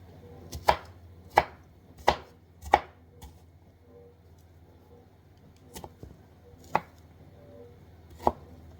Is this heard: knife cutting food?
yes